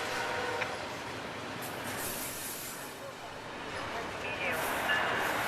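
A CSX Q130 freight train led by SD50-2 locomotives rolls past, hauling refrigeration containers, with a steady loud rumble of wheels and cars and some high squeal, continuous throughout.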